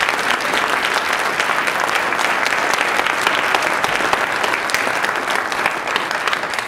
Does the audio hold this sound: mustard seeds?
no